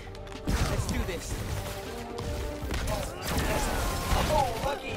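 Gunfire striking the player during the final wave of a Spider-Man: Miles Morales training challenge, with sharp bursts and crashes through a dense, loud game mix while a voice talks over it.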